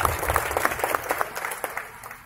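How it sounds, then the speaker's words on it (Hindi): An audience at a public gathering claps steadily to welcome someone, a brisk, continuous patter of many hands at moderate loudness that slowly thins out over about two seconds. "चलिए लॉकडाउन में चलाया तो ताली बजा के स्वागत करते हैं।"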